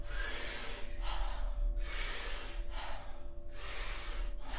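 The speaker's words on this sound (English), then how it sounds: "So what we're going to be doing is taking about 40 powerful breaths into the body" Strong rhythmic breaths repeat in a steady cycle, each forceful inhale followed by a softer exhale, close and with no talking.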